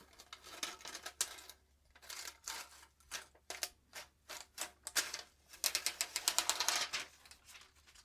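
Protective plastic film peeled by hand off an MSI RTX 5080 Inspire 3X OC graphics card, a series of close, crisp crackling rips and ticks in short bursts, building to a denser run of tearing near the end.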